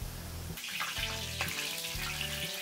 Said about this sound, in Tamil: எண்ணெய் சூடானதும் ஒன்று ஒன்றா உள்ளே சேர்த்து வெளியே கொஞ்சம் பொன்னீர் ஆகிறது வரைக்கும் இதை பொறிச்சிக்கோங்க